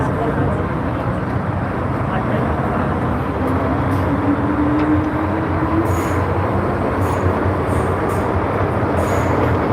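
A Hong Kong MTR subway train runs loudly, its continuous rumble and rail roar filling the whole stretch while a faint background voice is heard.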